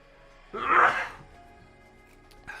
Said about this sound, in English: I'm going to sneeze again, sorry.